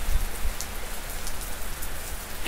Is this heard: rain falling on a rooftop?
yes